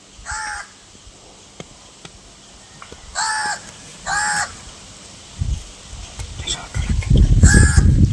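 Several loud, harsh caws from a nearby crow, spaced a second or so apart, with rustling and thumping noises building up toward the end.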